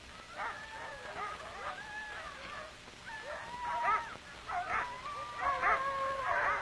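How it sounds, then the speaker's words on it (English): Sled dogs in a frenzy of barking, yelping and howling, several dogs overlapping in loud bursts throughout, the pack close and restless. "Any delay sets them into a frenzy of barking."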